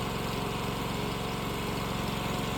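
The engine of a Vermeer TS-50M tree spade idles in a steady, even mechanical drone with a low pulsing throb, close and continuous, with no talking.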